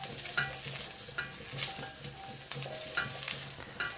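Cubed onions fry gently on low heat for a tawa pizza topping, giving a soft steady sizzle with faint rhythmic stirring scrapes and no voices.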